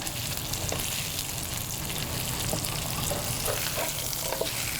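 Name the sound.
steak sizzling in a pan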